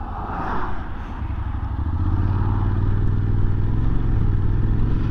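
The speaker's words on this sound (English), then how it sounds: "The gear change is actually pretty smooth." A Honda automatic scooter rides at speed, its engine droning steadily with a low hum that rises and firms up midway as the automatic transmission shifts smoothly, with light clatter and road noise throughout.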